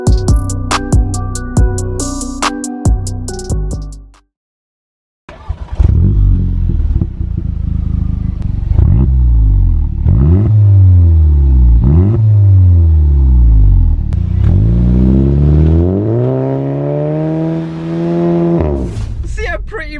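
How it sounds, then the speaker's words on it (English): A car with a new aftermarket exhaust and DSG gearbox revs and accelerates, with crisp upshift pops and rising engine pulls, loud and close, after a brief pause of silence. "the DSG noises are absolutely beautiful on this car"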